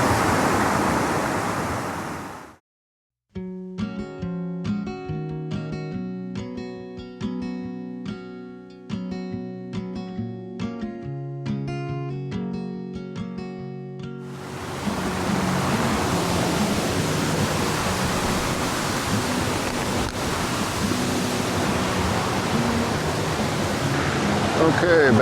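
A waterfall on the North Shore at Tettegouche State Park roars as steady broadband rushing water, loud and close, following a stretch of music that fills the middle of the clip.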